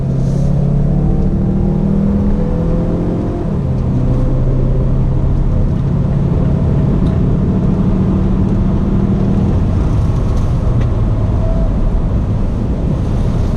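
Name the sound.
2019 Mazda CX-5 turbo SUV engine accelerating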